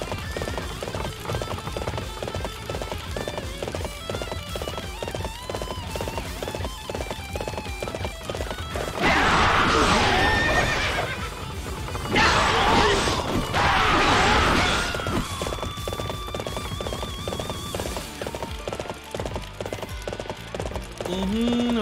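Horse hooves clip-clop steadily in a video game, Warriors Orochi 3 Ultimate Definitive Edition, with a few louder bursts of galloping or clashing action midway over continuous game sound.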